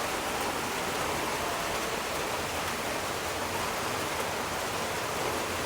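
Steady rain falls continuously in an outdoor street setting in Bangladesh, a dense, even wash of hiss with no distinct drops standing out and no voices over it.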